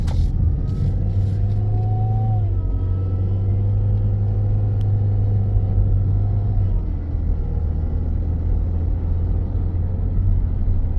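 A car's transmission whines steadily through a road test with a ratio error, a sustained tone over continuous engine rumble and road noise, loud and close throughout.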